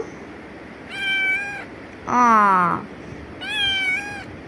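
A house cat meows three times, each call drawn out and clear at close range, the middle meow louder and lower-pitched, with quiet room noise in between.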